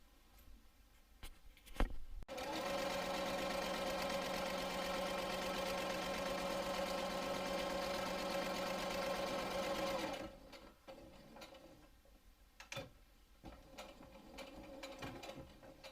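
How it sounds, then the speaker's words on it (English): A sewing machine stitches close along the edge of a fabric hem on a small tote bag, running in one steady mechanical whir for about eight seconds, framed by brief clicks and handling noises before and after. "sew very close to the edge all the way down to the other end"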